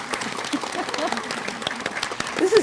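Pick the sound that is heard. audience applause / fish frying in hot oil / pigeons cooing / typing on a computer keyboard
audience applause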